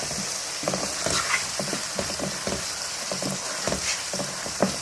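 Kofta curry masala sautés in a pan, with a steady close sizzle and frying hiss broken by scraping and stirring knocks from a utensil, and no voices.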